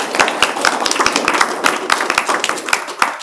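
Scattered hand claps at a council meeting, a small group clapping unevenly and fairly close, with a few murmuring voices underneath.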